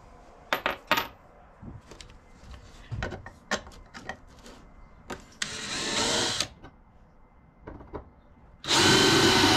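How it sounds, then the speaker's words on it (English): Power drill boring holes through a steel saw blade during a homemade axe build, heard as short loud bursts of whining and grinding, then two longer sustained drilling runs near the middle and end, with small clatters between. "Let's get our holes drilled."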